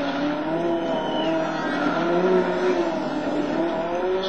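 Group N4 rally car from WRC 4 driving steadily, its engine note droning loud and continuous with shifting pitch and light tire noise, no voices.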